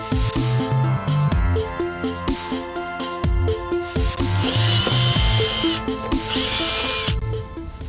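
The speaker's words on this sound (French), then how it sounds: "Donc on fait des trous comme ça, le plus rapproché possible de là où il faut découper." A power drill boring holes into a boat rudder, a run of short whining bursts of drilling that start and stop, close and loud, with higher squeals as the bit cuts.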